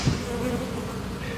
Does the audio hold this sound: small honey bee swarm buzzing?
yes